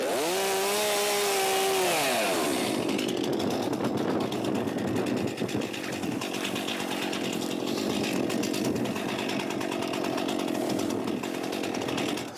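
A chainsaw clearing branches from a tree, engine whining and revving at first, then a loud, sustained cutting drone as it bites through wood, close and continuous throughout.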